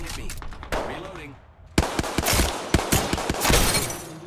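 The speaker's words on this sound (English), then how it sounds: "The enemies are shooting at me." Enemy gunfire in a multiplayer shooter video game: a few early shots, then a rapid volley of loud, close cracks and bursts, with game voice callouts heard over it.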